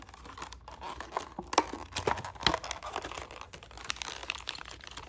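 Plastic packaging for a Midwest Industries optic mount for a KelTec Sub-2000 is torn open and handled, giving close, irregular crinkling and ripping bursts with no talking.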